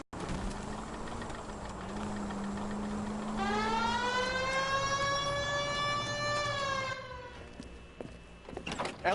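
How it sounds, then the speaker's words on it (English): A police car siren from the video game L.A. Noire winds up and holds a steady wail that rises and falls, then cuts out near the end, leaving short knocks and bumps. "Hit the siren."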